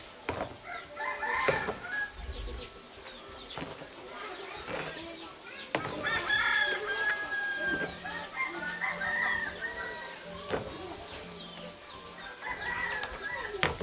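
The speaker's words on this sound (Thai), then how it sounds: "เสียงไก่ก็ได้ยิน" Chickens cluck and roosters crow around a rural Bru village, several birds calling near and far in a busy, overlapping chorus with bursts of crowing.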